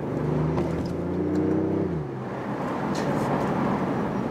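The small engine of a BMW i8 Roadster revs steadily with a rising hum for about two seconds, then drops back to a rougher, lower idle.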